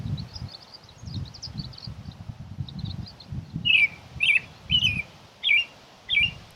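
Several American robin phrases ring out one after another in a clear, rhythmic series of bright, fluty chirps, fairly close, over a low background rumble.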